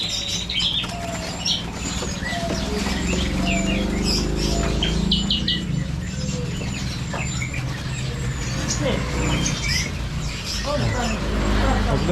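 Many caged birds at a roadside bird shop in East Java chirp, tweet and squawk continuously, with fluttering wings and passing traffic mixed in under the dense chorus; a voice is faintly present.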